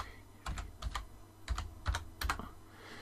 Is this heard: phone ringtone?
no